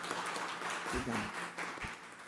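Applause from a crowd fills a courtroom plenary during a judicial session, a steady wash of clapping with a voice speaking briefly underneath.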